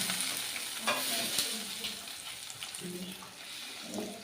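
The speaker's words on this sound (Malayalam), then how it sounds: "വറവ് നമ്മൾ നമ്മുടെ പച്ചടിയിലേക്ക് കുറച്ച് നന്നായി മിക്സ് ചെയ്ത ശേഷം" A freshly fried tempering is stirred into beetroot pachadi. A soft sizzle plays under a few scraping stirs and light clinks, close and fairly quiet.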